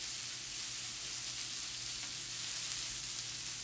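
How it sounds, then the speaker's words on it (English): Steak sizzles in a pan nearby, a steady, faint, even crackling hiss that continues throughout without voices. "that sounds like my steak"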